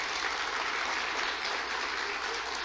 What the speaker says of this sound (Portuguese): Dê um aplauso ao Senhor então por essa palavra.